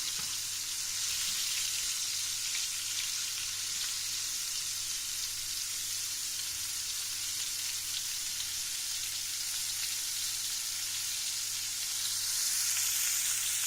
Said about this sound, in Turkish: Havuçlardan sonra mantarlarımı da pişiriyorum.